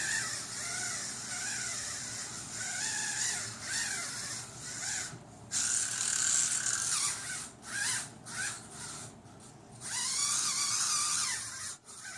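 An O'vinna electric callus remover grinds dry skin on a heel, a near motorized whir whose pitch and rasp rise and fall in uneven bursts, with short pauses between passes and no talking.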